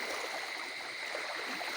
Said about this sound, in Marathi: पाणी फुल ॲक्च्युली नदीला पूर येऊन गेलेला आहे